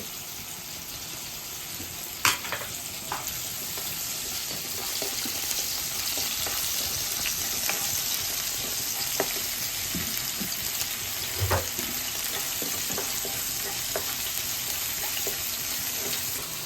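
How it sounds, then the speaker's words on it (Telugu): Ginger garlic paste fries in oil in a kadai with a steady, continuous sizzle, broken by occasional light clinks and scrapes of stirring; no one talks. "అల్లం వెల్లుల్లి పేస్ట్ ఆయిల్లోని పచ్చివాసన పోయేంత వరకు వేసుకోవాలండి"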